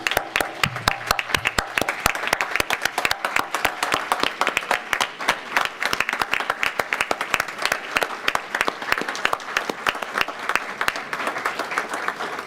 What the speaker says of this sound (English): please join me in applauding these courageous alumni of our schools